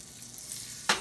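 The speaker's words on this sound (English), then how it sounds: "Put a little pat of butter in the skillet." A small pat of butter sizzles and crackles in a hot skillet, with a brief louder burst of frying at the end.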